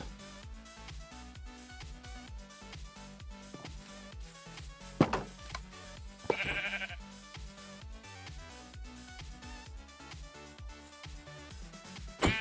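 Sheep bleating in the Minecraft modpack Stoneblock 3, a couple of short bleats heard over busy, rhythmic machine clatter and thunks.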